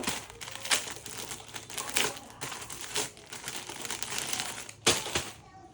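Plastic wrapping crinkles and rustles up close as a packaged kurti is opened at a wholesale shop, coming in repeated bursts of crackling handling.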